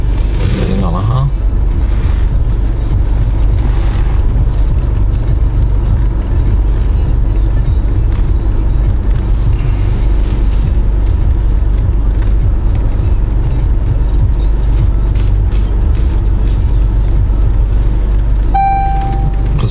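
A Jaguar XE drives slowly along a row of parked cars, its steady engine and road rumble running loud and continuous, with a short chime near the end.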